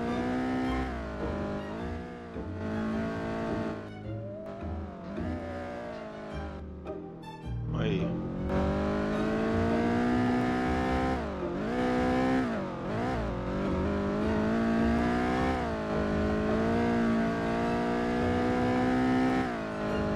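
A car in the Roblox game drives alone on a race track, its engine droning and revving up and down steadily. A higher tone sweeps across it now and then, and there is no talk.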